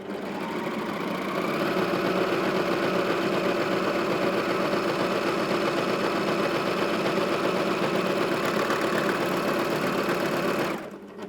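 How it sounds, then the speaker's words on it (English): Husqvarna Viking Amber Air S 600 coverlock machine stitching a rolled edge while trimming excess fabric, a steady fast mechanical whir and rapid needle clatter running loud and continuous for about ten seconds before stopping abruptly. "So if I go ahead now and just sew another rolled edge and we trim that excess fabric off"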